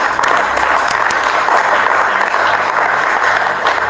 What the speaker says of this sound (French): Applaudissons pour nos femmes encore.